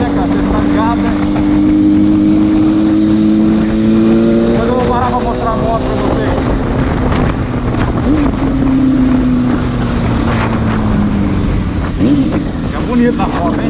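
A Yamaha FZ6 motorcycle engine drones at speed with rising and falling pitch as it shifts, buffeted by steady wind noise, while someone talks over it in Portuguese.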